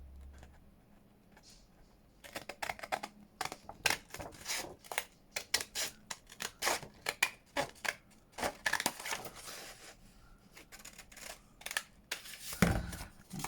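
Scissors cut paper for a junk journal, close crisp snipping and crunching in irregular bursts after a quiet start, with soft paper rustles between cuts.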